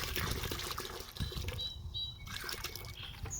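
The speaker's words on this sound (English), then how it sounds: "And now I'm going to add a bunch of vinegar to it." Vinegar is poured into a pot of water for setting yarn dye, giving a soft, continuous trickling and splashing of liquid close by, fairly quiet.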